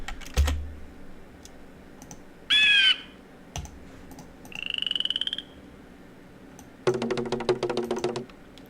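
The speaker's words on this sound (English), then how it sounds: "Trying to type random keys for no reason, just so I can trigger that dialogue." Random keys are tapped on a computer keyboard in a Windows 95 setting, giving a few scattered clicks and then a quick burst of rapid typing. Odd chirping and croaking system sound effects pop up between the keystrokes.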